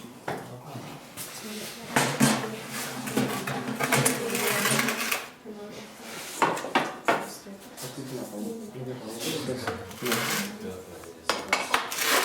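Metal baking trays are shifted with a poker inside a wood-fired bread oven on a village farmstead, giving repeated clanks, scrapes and rattles close by, mixed in with a voice talking over them.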